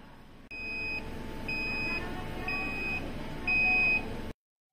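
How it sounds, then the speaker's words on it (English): A vacuum pressure impregnation chamber's electronic buzzer signals the end of its dry vacuum cycle, beeping in four evenly spaced, high-pitched pulses over a constant mechanical hum. "there will be a buzzer for 30 seconds indicating the completion of dry vacuum process"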